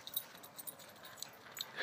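Outdoors among a group of dogs, one dog gives faint, high-pitched whimpers and squeaks in short, scattered bursts over a quiet background hiss. A louder squeal comes at the end.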